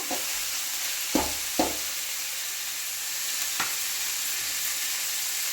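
Tomatoes and onions roast in a hot pan for egg sambar, a steady broadband sizzle running throughout with a few sharp stirring scrapes and knocks, close and moderately loud, no voices.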